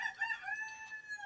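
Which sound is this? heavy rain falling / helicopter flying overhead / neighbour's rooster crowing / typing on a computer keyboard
neighbour's rooster crowing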